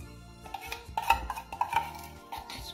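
A spoon scraping condensed milk out of a metal can, producing a series of short metallic scrapes and clinks in an uneven rhythm, close and moderately loud.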